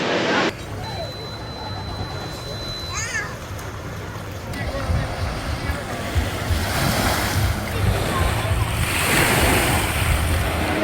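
Waves wash steadily onto Chania Beach in Crete, a broad continuous surf roar mixed with wind buffeting the microphone, with a few faint voices in the background.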